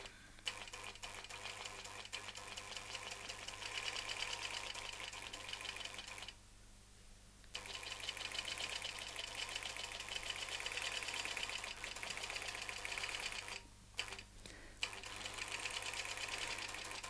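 A longarm quilting machine stitches along a template, running as a continuous fast mechanical whir with rapid needle ticking, pausing briefly twice before resuming at steady volume.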